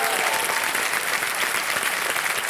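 Loud, continuous studio audience applause on a television quiz show, dense and even throughout with no talking.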